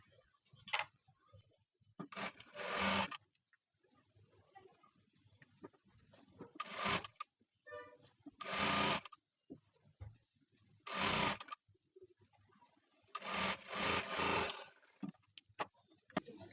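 A sewing machine top-stitches the border of a blouse in short, separate bursts of quiet rapid mechanical ticking, with gaps of near silence between runs.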